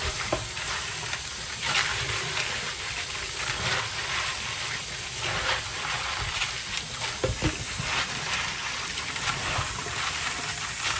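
Washed beans going into a hot pot with water on a stove, a steady hissing sizzle with bubbling and occasional soft clanks, continuous and close without talk.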